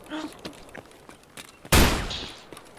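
Gunfire from scavs in the video game Escape from Tarkov, a few scattered sharp shots followed by a loud, dense burst of rapid fire that decays over the next second.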